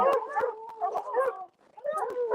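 Several dogs yipping and howling outdoors in extreme cold around forty below, one loose dog without a collar among them, a continuous wavering chorus of howls with sharp yips, broken by a brief pause.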